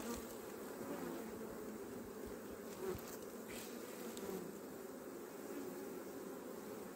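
Honeybees buzzing at an open hive during an inspection, a steady dense drone of many insects close by, continuous and fairly even throughout with no talk.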